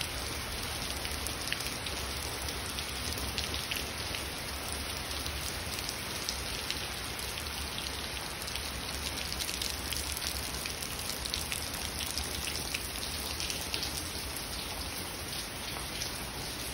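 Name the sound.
rain falling outdoors in a garden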